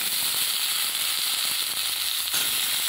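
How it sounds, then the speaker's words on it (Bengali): Cut potatoes frying in a pan with turmeric, a loud, dense, continuous sizzle with fine crackling and no voices. "আলুটা ভালো করে ভেজে নেব।"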